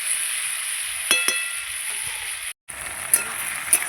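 Onion frying in oil with beans and potato, a close, steady hiss with a few sharp crackles and stirring clicks, and a brief dropout in the middle.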